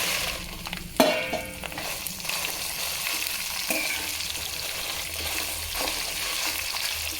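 Spices sizzling in hot oil during tempering with asafoetida, a loud burst of crackle as they hit the pan, then a steady close frying hiss with faint clinks, no talking.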